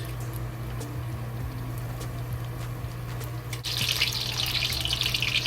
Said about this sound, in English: We fry it both sides, makes a golden brown.